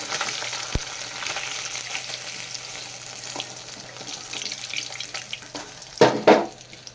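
Katla fish pieces sizzle continuously in hot oil at close range, with a sharp tap early on and a louder burst of spattering and clatter near the end.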